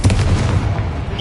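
Confringo blasting spell in Hogwarts Legacy bursting in a loud, close explosive boom with rumbling crackle that fades quickly.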